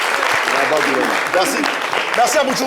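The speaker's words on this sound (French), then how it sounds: "Je pense qu'il faut applaudir" Studio applause rises under a host's voice on a live show, a steady broad clatter of clapping while someone speaks over it.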